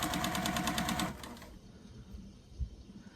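A sewing machine hums quickly with a rapid mechanical stitching rhythm, then stops abruptly, leaving quiet room sound and a soft thump.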